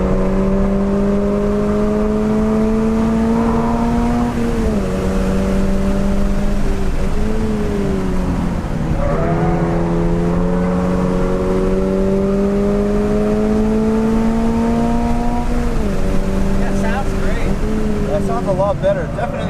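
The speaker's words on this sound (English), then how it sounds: "And the engine itself too, it feels a lot more free flowing throughout the whole RPM range." A Toyota GR86 engine, 2022 model, revs hard during a hot lap on a track, its steady tone climbing through the gears and dropping at each shift, heard loud from inside the cabin, with occupants talking over it.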